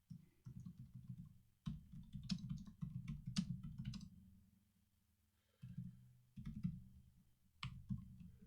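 Keys on a computer keyboard clatter in quick bursts while C# code is written for a Bluetooth LE app, close and clear, with short pauses between runs of typing and no talk.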